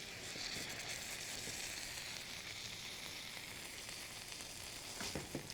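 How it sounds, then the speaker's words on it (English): Stuffed pork tenderloin, filled with cranberry and cheese, searing in butter in a hot pan gives a steady, close sizzle that holds evenly throughout, with a few brief crackles near the end. "Now, while it's searing,"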